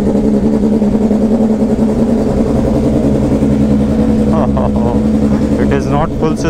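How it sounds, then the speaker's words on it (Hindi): Loud, close inline-four superbike engine revving at a used superbike dealer in Bangalore, a steady throaty drone with rising pulls near the end and a voice talking briefly over it. "अपनी बाइक का साउंड नोट सुना देता हूँ आपको"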